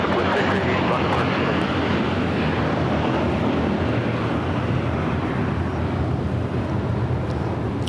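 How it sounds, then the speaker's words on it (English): A United Boeing Dreamliner crossing runway 25 right at LAX, its jet engines giving a steady low rumble and wash of noise that fades slightly toward the end. "the United Dreamliner now crossing over 25 right"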